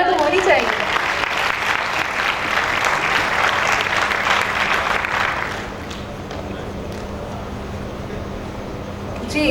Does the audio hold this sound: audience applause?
yes